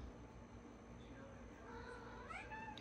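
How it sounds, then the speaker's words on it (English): A pet cat gives a short, faint rising meow toward the end, heard over low room noise during a makeup painting tutorial. "here comes my cat"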